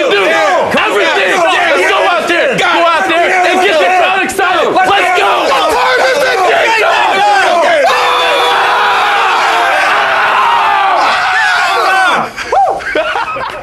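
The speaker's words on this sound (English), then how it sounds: "You get the crowd excited." An excited crowd roars and yells at a college basketball game between Maryland and North Carolina, loud and sustained with rising whoops and a brief dip near the end, under a voice talking.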